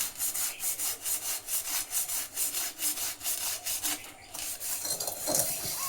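A burnt wok is scrubbed with sand and soap in rapid back-and-forth strokes, a rhythmic close rasping scrape that pauses briefly and then resumes more roughly, with no talk.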